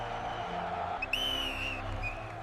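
A referee's whistle sounds at the kickoff of a 1930 FIFA World Cup football match, a bright sustained tone about a second long that comes in over a steady low background.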